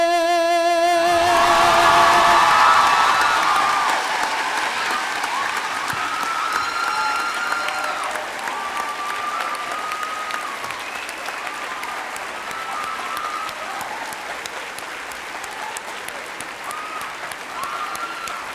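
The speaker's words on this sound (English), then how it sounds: "One more applause for that young lady's fabulous voice." A school district convocation audience gives sustained applause after the national anthem, loud at first and then settling into steady clapping that fades slightly over about eighteen seconds.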